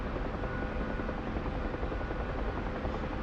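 A Huey helicopter in a flight video game drones with steady, loud, dense rotor and engine noise, unbroken throughout with no talk.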